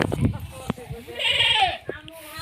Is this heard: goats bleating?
yes